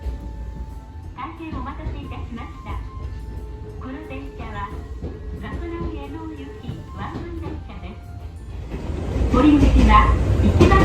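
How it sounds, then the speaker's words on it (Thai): Riding the Gakunan Railway, a private rail line in the Fuji area of Japan, gives a low, steady carriage rumble under someone talking; the rolling noise grows louder and rougher toward the end. "ซึ่งเราจะใช้บริการของเส้นทางรถไฟเอกชนสายกัตคุนันเรลเวย์"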